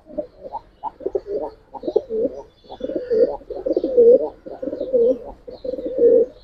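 Giribaz pigeons cooing in a loft room, a steady run of soft, close, overlapping coos that continue throughout without pause.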